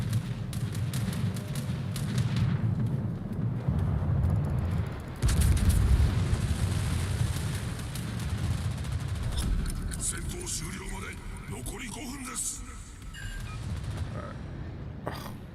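A World of Warships battleship fires its main-gun salvo with deep booming gunfire in a naval battle, a heavier blast landing midway, while a player keeps talking over the action.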